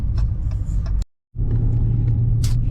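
A steady low rumble from a Dodge Charger Daytona 392 cruising on the road, heard from inside, with a brief sudden dropout partway through before the same drone resumes.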